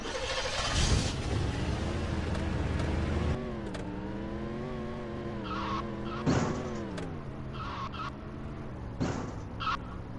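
A Lincoln Town Car in a Roblox racing game, driven on an off-road track: a droning engine rises and falls in pitch while short squealing skid bursts cut in several times, with no talking.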